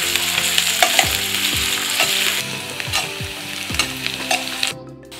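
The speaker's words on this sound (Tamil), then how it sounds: "எண்ணெய் ஹீட் ஆயிடுச்சு, சின்ன வெங்காயம் போட்டுக்கலாம்." Small onions frying in hot oil in a pan for crab rasam, a steady loud sizzle with repeated scraping stir strokes and clatter throughout, no voices.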